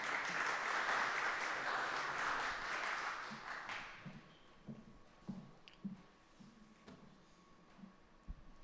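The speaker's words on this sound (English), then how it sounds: "please welcome her with applause" Conference audience applauding a speaker onto the stage, a dense burst of clapping that fades out after about four seconds, followed by quiet room noise with scattered knocks and shuffles.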